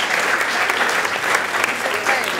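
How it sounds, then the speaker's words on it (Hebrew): Audience at a religious lecture clapping together in a burst of steady, dense applause that fills the space. "מגיע לה כפיים, מגיע לה."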